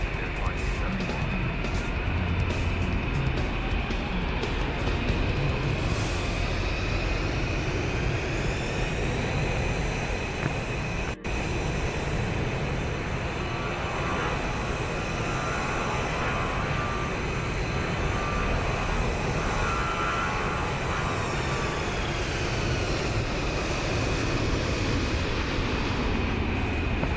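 An airliner touches down on runway 36 left at Charlotte, North Carolina, heard from inside the cabin as a loud, constant engine and rolling roar with a sharp thump near the middle and faint voices underneath.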